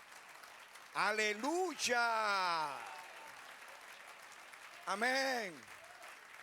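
Church congregation applauding as a steady wash of clapping beneath a preacher's loud, drawn-out shouted praises, with a short pause before his voice returns.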